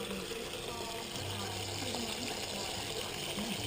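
Water rushes steadily from a newly installed pump in an evaporative cooler, a loud continuous close flow with someone talking over it.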